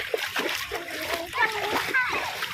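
A child splashes and plays in water after playing in sand, with steady close splatter and sloshing throughout and a voices and chatter mixed over the splashing.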